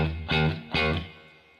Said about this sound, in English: I've got the spring reverb on, yeah.